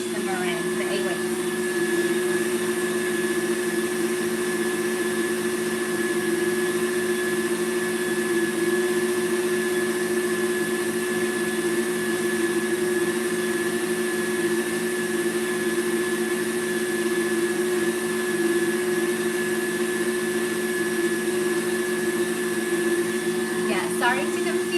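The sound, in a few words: electric mixer whisking meringue for macarons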